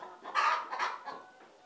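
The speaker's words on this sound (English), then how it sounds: "the hens you see here, or you are viewing now, they are just 2 years." Two-year-old laying hens of a local parent stock on a poultry farm cluck in a few short, close bursts, with no talk over them.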